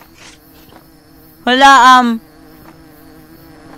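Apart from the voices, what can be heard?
bees buzzing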